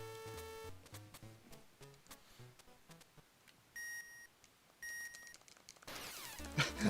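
Short electronic beeps from the Game Boy game Tiny Toon Adventures, two sustained tones near the middle, set among chiptune music and game effects.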